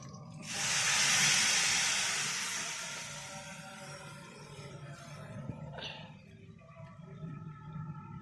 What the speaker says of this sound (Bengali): ডাল পেঁপে আলু সিদ্ধ করা ছিল সেটা এবারে আমি এতে ঢেলে দেবো